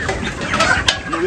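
Chickens cluck close by in a Dominican poultry setting, with short, uneven bursts of hen calls over a busy background.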